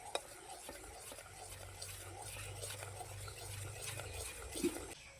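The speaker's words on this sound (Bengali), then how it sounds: "ইনো দেওয়ার পরে ব্যাটারটাকে ভালো করে ফেটিয়ে নিয়েছি" A flattened-rice batter with Eno is whisked in a bowl, giving a faint, steady stirring and scraping sound with a few light clinks, quiet and unvoiced throughout.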